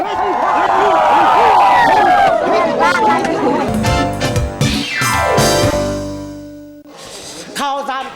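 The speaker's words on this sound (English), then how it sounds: "When the first spark of fire is seen, a roar erupts from the crowd" Village crowd at a new-fire ceremony in Awashan, Yunnan, erupting into a loud roar and excited shouting as the first spark appears, voices swelling together then trailing off near the end.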